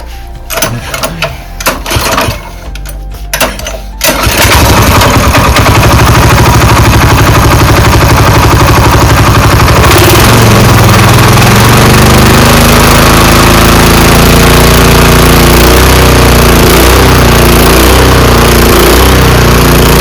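A small tractor-type power weeder, its carburetor just cleaned after a breakdown, is close and loud. After a few seconds of rough sputtering it catches and runs at a steady buzzing drone, which shifts slightly in pitch partway through.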